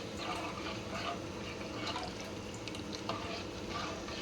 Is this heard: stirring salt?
yes